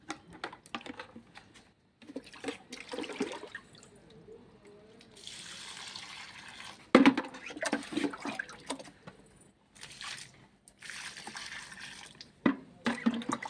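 Water is poured onto potted rose plants, coming as intermittent bursts of splashing and trickling between quieter gaps, close by and moderately loud.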